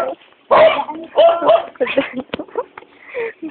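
A small dog yips and barks in short excited bursts, close and loud, with whimpering sounds in between.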